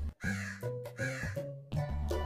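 A cartoon crow in an animated Hindi moral story caws several times in quick succession, loud and close, with harsh harmonic calls and no talk over them.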